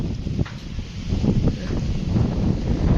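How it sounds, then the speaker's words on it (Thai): Strong wind blows across the microphone outdoors, a loud, continuous low rumble that buffets and swells for about three seconds. "ลมพี่น้องลมวุ่นอยู่"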